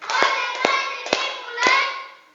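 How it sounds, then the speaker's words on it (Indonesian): Children in a classroom clap their hands on instruction, four separate sharp claps spaced about half a second apart, close and fairly loud. "Tepuk tangan 2 kali."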